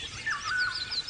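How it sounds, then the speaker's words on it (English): Birds chirp and call from a tree holding many nests, a steady mix of high, thin tweets overlapping at moderate loudness, with no talking. "there's a tree behind me with like 50 bird nests"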